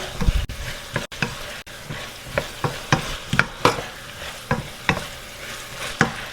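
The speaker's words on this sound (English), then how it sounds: "Let me give this a stir." Coconut milk chickpea curry stirred in a pot on a stove, with regular scraping and knocking strokes of a spoon over a low bubbling sizzle, close up and moderately quiet.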